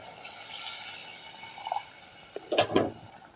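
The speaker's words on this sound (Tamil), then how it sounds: "நம்ம கரைச்சி வச்சுருக்க புளியை ஊற்றிடலாம்" Dissolved tamarind water is poured into a simmering pan of okra curry (vendakkai kuzhambu), a short splashing gush of liquid that lasts about half a second over faint background kitchen noise, with no talking.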